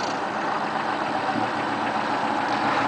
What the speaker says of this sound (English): I've got the idle set a little high right now.